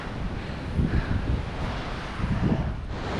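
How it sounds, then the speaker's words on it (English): Strong wind buffets the microphone in a steady roar at a campsite while cycling in Georgia near Mestia, with low rumbling gusts swelling twice; no voices are heard. "It's just really windy."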